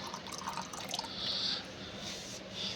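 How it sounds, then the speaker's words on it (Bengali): Water is poured into a bowl set out for birds to bathe and drink from, a faint soft trickle and splash that swells briefly midway, quiet and without talk. "এই যে জল দিচ্ছি তো এই বাটির ওপর বসে স্নান করবে"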